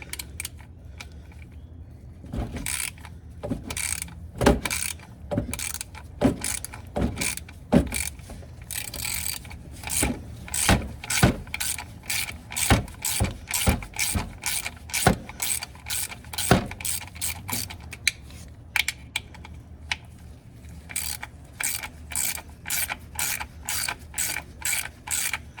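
A ratchet wrench clicking in rapid bursts removing 10mm bolts on a 2009 Scion tC transmission, steady ratcheting strokes with brief pauses between, close up and fairly loud, no voices.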